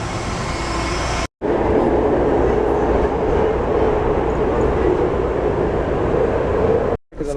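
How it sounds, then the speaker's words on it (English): A train rumbles loudly through a station as it pulls in, a steady close roar of wheels and cars filling the scene, with two brief drops to near silence at the start and end. "The train is coming."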